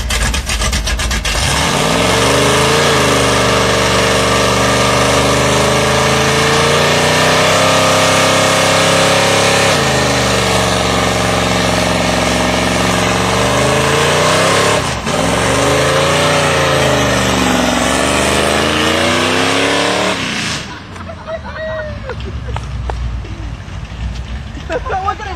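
A 1972 Dodge van with open headers roars through a burnout, its loud, raw engine note rising and falling in repeated revving sweeps for about twenty seconds before dropping away to wind and rumble.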